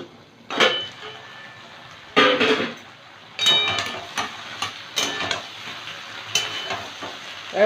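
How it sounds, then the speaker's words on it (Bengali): Okra (bhindi) being stir-fried in a pan, seasoned with salt and turmeric: a spatula scrapes and stirs in several bursts over a steady low sizzle, with occasional utensil clinks and no talking. "ভালো করে ভেজে নেব"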